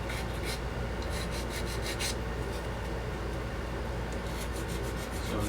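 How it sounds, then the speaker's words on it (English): Steady, continuous rasping of a file and sandpaper on plastic parts from a 1/24 Revell Audi R8 Spyder model kit, close and even for several seconds with light rhythmic strokes. "filing down my nubs on this"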